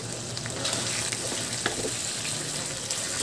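Liver and gizzards simmering in tomato sauce with potatoes in a pan are stirred, giving a steady, even sizzle and bubbling hiss throughout with soft scraping, and no one talking.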